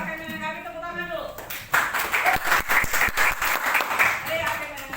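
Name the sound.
class applause for a group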